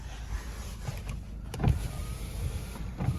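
Car power windows whir as their electric motors run, with soft mechanical clunks as they stop, heard close up inside the vehicle.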